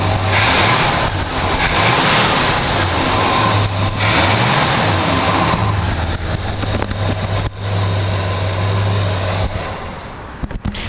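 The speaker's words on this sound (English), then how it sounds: "Juan, go ahead and rev that up for me." A 1970 Pontiac GTO engine revs loudly and close up, with a steady deep rumble that swells and surges, then eases back toward idle near the end.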